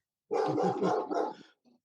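A dog barks in a quick burst of several close, loud yaps run together, followed by one short softer bark after a pause.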